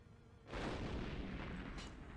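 Artillery fires in the wartime strategy game Steel Division II, a faint distant boom swelling into a sustained rumbling roll that carries on to the end.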